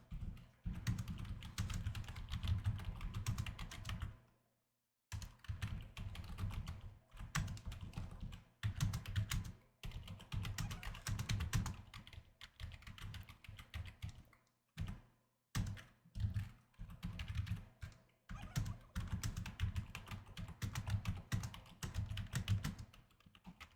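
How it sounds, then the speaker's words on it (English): Someone types a message on a computer keyboard in quick, uneven bursts of clicking keys, broken by brief pauses, fairly close and clear with no voice. "Type your message."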